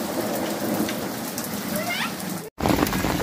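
Heavy monsoon-style rain pours down steadily as a dense, loud hiss with a faint rumble of thunder, broken by a brief dropout before resuming.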